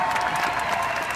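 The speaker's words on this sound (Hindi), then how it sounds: "जोरदार तालियां इनके लिए।" Steady, full applause from a comedy show audience fills the room, dense and continuous with a faint crowd murmur beneath it.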